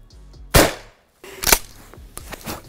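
Three sharp shots from a gun firing rubber bullets at a double-layered test wall, each a loud crack with a short decaying tail, the first and loudest near 0.5 s, then two more at roughly 1.5 s and 2.2 s.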